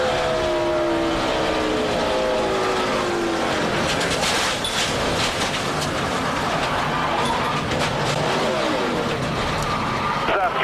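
NASCAR race car engine roaring loud and continuous from onboard Michael Waltrip's car, with shifting pitch sweeps as it revs and the race goes on, a commentator talking over it.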